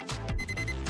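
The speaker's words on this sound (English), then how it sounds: "The correct answer is an alarm clock." Alarm clock ringing, a short burst of rapidly repeating electronic beeps, loud and close with no talking.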